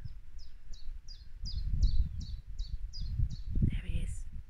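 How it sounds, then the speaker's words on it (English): A chiffchaff sings its steady, evenly spaced chirping notes, about ten in a row, small and slightly distant outdoors on a spring day, over low rustling and wind rumble. "There he is, called a chiff-chaff."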